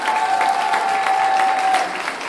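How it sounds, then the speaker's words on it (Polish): An audience at a conference breaks into dense, steady applause, many hands clapping together at close range, with a faint thin tone running through it before the clapping thins slightly at the end. "Wielkie brawa!"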